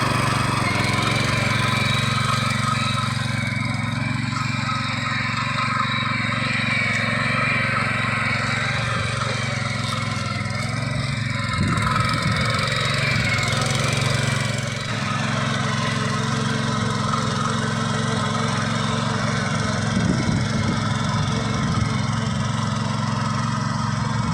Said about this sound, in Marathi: आम्ही आता घेतलंय मशीन चालू करून आणि आता चिखलायला सुरुवात करतोय